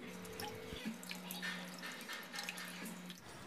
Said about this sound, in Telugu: ఇందులో సరిపడా వాటర్ని పోసుకొని 2 సార్లు శుభ్రంగా వాష్ చేసుకోవాలి